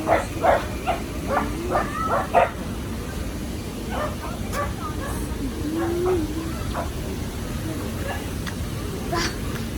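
Two puppies yip and bark in quick bursts near the start at Nurragingy Reserve, New South Wales, then fainter whimpers and yelps continue amid background noise and some voices.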